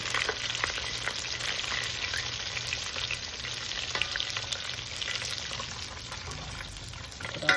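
Chicken pieces fry in hot oil, a dense continuous crackling sizzle with lots of fine popping spatter, close and steady throughout without speech.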